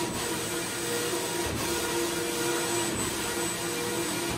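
Knitting machine running steadily in a Faroese wool store, a continuous broadband mechanical whir with a faint sustained hum and occasional soft rubbing, no one speaking.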